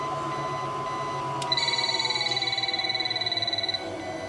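Electronic trigger tone from a TV series: a steady high pulsing beep sounds alone for a couple of seconds over a low hum, starting abruptly and cutting off cleanly.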